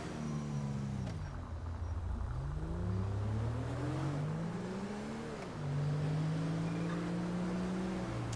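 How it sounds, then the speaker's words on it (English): A car engine in the video game GTA 5, revving and shifting through gears as it speeds along, a steady, fairly loud drone with rising and falling pitch and no talk. "That car was moving."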